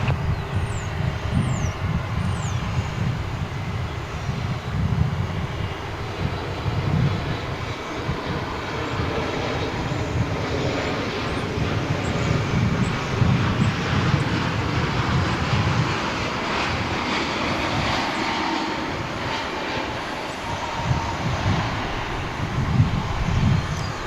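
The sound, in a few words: American Airlines plane landing at DFW airport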